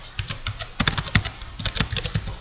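A computer keyboard is typed on rapidly while writing Java code, crisp irregular clicks in quick bursts with brief pauses, close and clear.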